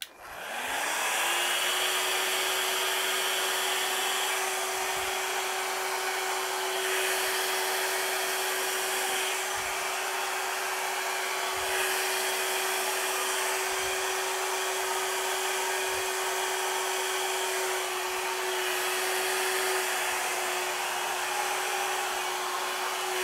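Air blown steadily over wet Dutch pour paint, probably from a hair dryer: a loud, continuous motor whine and rushing hiss that starts abruptly and holds steady, with no talking.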